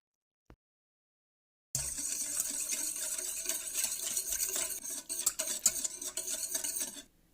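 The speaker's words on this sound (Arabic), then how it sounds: "في طبق العجن هضيف اللبن والخميرة والسكر وهخلطهم مع بعض كويس" Milk, yeast and sugar stirred together in a kneading bowl: a single tap, a pause, then continuous scraping and clinking of a utensil against the bowl that stops abruptly near the end.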